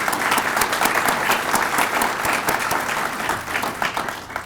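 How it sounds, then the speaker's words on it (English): An audience at an evening honors gala applauds the event's sponsors with a sustained, dense burst of clapping that stays full and even throughout before easing slightly at the end. "join me in giving them a round of applause for their support"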